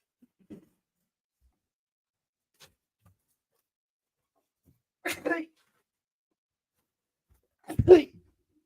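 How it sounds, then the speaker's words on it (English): A single sharp human sneeze bursts out near the microphone against near silence, preceded by a smaller catch of breath and followed by a few faint clicks. "I'm sorry, I had to sneeze."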